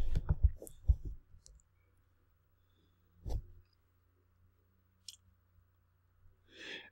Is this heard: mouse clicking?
yes